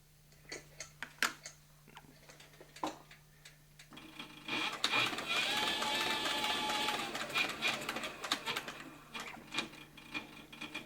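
A saddle-making sewing machine stitches thick leather, running as a steady mechanical whir with rapid needle clatter for several seconds, preceded and followed by scattered clicks and handling taps up close.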